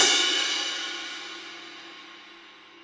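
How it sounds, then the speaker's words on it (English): A single cymbal crash, struck with a medium-high offset, a high angle and medium speed, opens with a bright, splashy attack. It then washes out into a long shimmering decay that fades steadily over about three seconds, heard alone. "playing these kind of notes on these cymbals"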